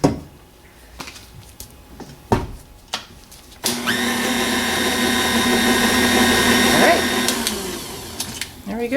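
A blender whirs through a coffee-scented shower steamer mixture with citric acid, a loud sustained motor drone running about five seconds after a few clacks and knocks, with a voice speaking around it.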